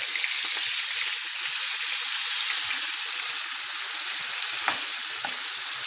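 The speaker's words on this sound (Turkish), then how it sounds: "Şimdi ben bunu böyle kızartacağım" Loud, steady sizzling of kokorec frying in a pan, a dense crackling hiss with scattered pops and spatters throughout.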